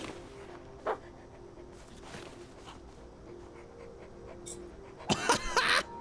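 Panting from a small pug-like dog in the video game Hello Neighbor 2, faint, short breathy bursts over a quiet game backdrop, ending in a louder flurry of rapid panting.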